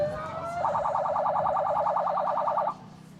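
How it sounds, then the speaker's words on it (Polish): A police car siren at an outdoor charity picnic in Prudnik wails in a rapid, even warble for about two seconds, loud and near, then cuts off abruptly over a low background hum. "Włączamy sygnały policyjne."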